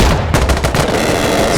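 Rapid automatic gunfire in the video game Insurgency Sandstorm, a loud close burst of shots rattling continuously through the whole moment.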